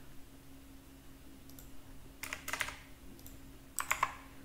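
Keystrokes on a computer keyboard, faint and sparse, coming as a few short bursts of light clicks with quiet gaps between them, no voices.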